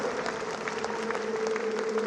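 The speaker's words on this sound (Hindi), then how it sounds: "जोरदार ताली बजाओ।" Audience at a grand celebration in Thailand claps steadily and loudly, a dense, continuous wash of applause from a large crowd for two seconds with no break.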